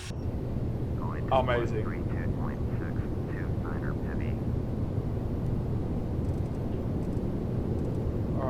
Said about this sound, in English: Those sounds from this airplane.